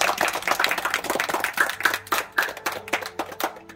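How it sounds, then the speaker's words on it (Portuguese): Scattered clapping from a small group at a birthday celebration, quick irregular hand claps building a brisk patter for a few seconds, fairly close and without talk. "Receba as nossas palmas."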